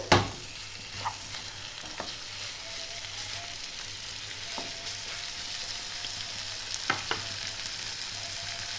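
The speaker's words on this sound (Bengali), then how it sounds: "এটা ভালো করে নাড়িয়ে চাড়িয়ে নিতে হবে।" Pieces of Kashmiri chicken kanti fry with onions in a pan, a steady soft sizzle broken by a few scraping stirs and light clinks of the spoon, fairly quiet and close, with no talk.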